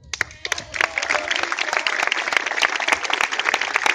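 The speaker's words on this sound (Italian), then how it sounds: "Applausi." Audience applause at an award ceremony as a young woman named Ludovica receives a prize: clapping starts in a few scattered bursts, then swells into loud, sustained applause with voices mixed in.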